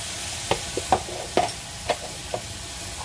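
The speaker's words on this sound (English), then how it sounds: "adding the pork to stir fry in the pan" Unseasoned pork stir-frying in a pan gives a steady background sizzle, with a spatula scraping and clattering against the metal in several quick, irregular strokes.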